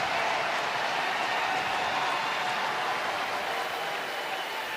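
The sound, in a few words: football stadium crowd cheering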